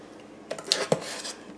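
White cake batter from scratch is scraped and portioned into two cake pans, giving a few soft clinks and knocks of utensil against metal pans in a quiet kitchen, with no talking.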